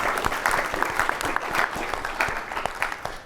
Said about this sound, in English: they definitely deserve another round of applause in advance of their hard work